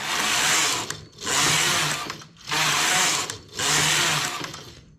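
A knitting machine carriage runs across the needle bed knitting rows, four loud whirring passes each about a second long separated by brief pauses, close and alone.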